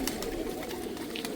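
Pigeons cooing at a fancier's loft, steady soft murmuring calls close by with a continuous low hum of birds throughout.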